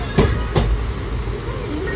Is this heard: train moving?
yes